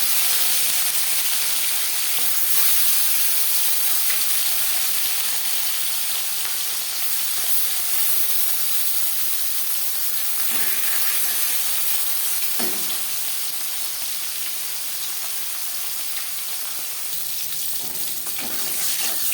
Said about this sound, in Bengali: 3 চামচ রিফাইন্ড অয়েল গরম করে নিয়েছি। এবার দিয়ে দেব মাছ।